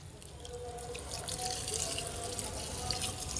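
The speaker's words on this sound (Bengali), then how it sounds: "এই যে জল দেবো এখন গাছগুলোতে, সব পাইপ দিয়ে জল দিলে না খুব সুবিধা হয়" Water from a pipe pours steadily onto garden plants, a continuous soft splashing rush with small scattered drips, fairly close and even throughout.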